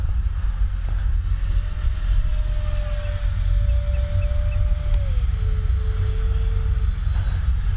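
A Freewing JAS-39 Gripen delta-wing RC jet makes an inverted pass with the wind, its electric ducted-fan whine holding steady and then dropping in pitch as it goes by over a constant rumble of wind.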